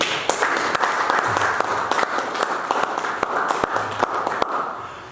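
A church congregation at a French-language sermon claps and applauds steadily, with sharp individual claps standing out from a dense, continuous crowd clapping.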